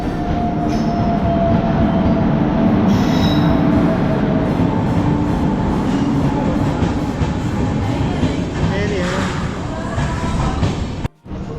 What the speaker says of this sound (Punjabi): ਲੋ ਜੀ ਟ੍ਰੇਨ ਆ ਗਈ